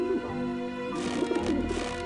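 Pigeons coo in low, rounded warbles in the video game Grim Fandango, a couple of soft repeated calls over a faint steady ambient hum with no talking.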